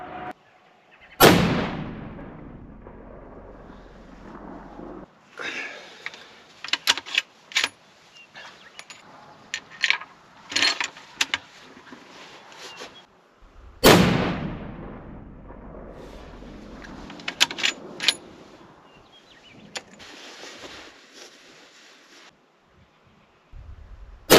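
A factory Savage rifle fires two sharp, loud shots at a 1000-yard target with roughly twelve seconds between them, each followed by a ringing tail and a scatter of clicks and handling noises.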